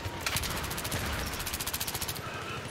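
Rapid automatic gunfire in the video game Battlefield 3, a fast steady burst of sharp repeated shots heard close and fairly quiet, with no talking.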